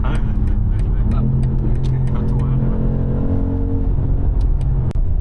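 BMW X3 engine revving hard in sport mode, a loud sustained drone climbing through the revs with a pop, heard from inside the cabin under steady talk.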